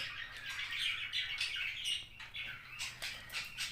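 Budgerigar chicks chirping inside a nest box, a faint, continuous chorus of thin, rapid cheeps and squeaks with no one speaking.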